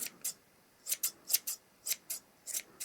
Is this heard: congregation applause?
no